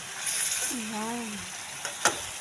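Ampalaya stir-frying in a pan, a steady soft sizzle under a voice, with a couple of brief scraping stirs near the end.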